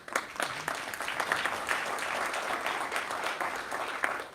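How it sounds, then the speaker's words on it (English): Audience applause at a panel event on mobility and equitable cities, steady clapping from a full room that holds for several seconds without a break. "That's non-rookie applause."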